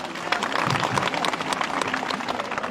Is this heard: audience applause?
yes